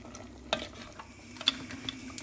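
Spoon stirring pork adobo with pepper powder in a pan, with a low sizzle underneath and scattered light scraping clicks and taps against the pan.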